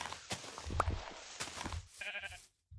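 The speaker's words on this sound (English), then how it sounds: "I want to save this pink sheep because they are so rare." A pink sheep in a video game bleats once near the middle, amid faint clicks and game sounds, followed by a short harmonic tone before it falls silent.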